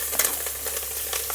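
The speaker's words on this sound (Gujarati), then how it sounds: "જીરું નાખી દઈએ. પછી હિંગ, લીમડો નાખી દઈએ. પછી લીલા મરચાં" Cumin, asafoetida, curry leaves and green chillies sizzle in hot oil while tempering a dosa dal. A steady, close hiss runs throughout with small crackling bursts and no voices.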